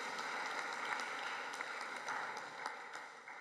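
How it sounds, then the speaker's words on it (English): A crowd at a university welcome event claps for award recipients, a dense, steady round of applause filling the room at even volume from start to end. "can you give those recipients a quick round of applause?"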